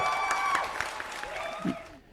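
Applause sound effect played on a podcast, a short burst of clapping running underneath people talking and laughing, loud at first and then tapering off.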